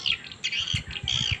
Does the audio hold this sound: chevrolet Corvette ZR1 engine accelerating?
no